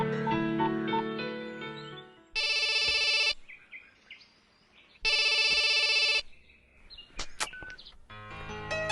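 A telephone rings in two long electronic bursts with a quiet gap between them, left unanswered, set against tonal music and a few short chirps near the end.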